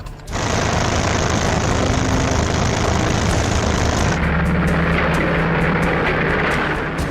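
WWII propeller aircraft engines roaring in a loud, steady drone that fills the whole stretch, with a sustained engine hum and a shift in tone partway through, heard alone without talk.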